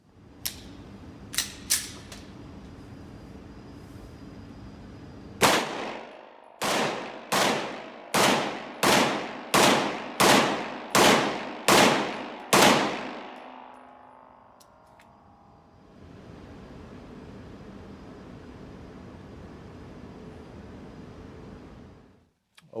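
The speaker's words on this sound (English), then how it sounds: "Point of the used gun, of course, M&P 9. Let's quickly shoot it." A used Smith & Wesson M&P 9mm pistol fires about nine loud, sharp shots in an even, rapid string, after a few faint clicks and taps. A quieter mechanical rustle follows.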